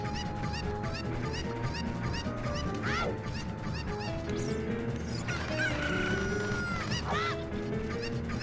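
Cuckoo chickens in the video game Zelda: Ocarina of Time cluck and squawk steadily over busy game audio. Several birds call repeatedly throughout, with louder crowing honks mixed in.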